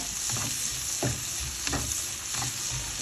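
Chopped onion sizzling as it is sautéed in a frying pan for sopas, a steady hiss with a few stirring scrapes, close and alone.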